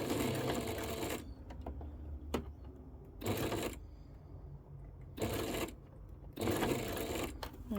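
A sewing machine stitches a strap for a Yeti water bottle holder in four quick bursts of rapid mechanical chatter separated by brief quiet pauses, close and clear.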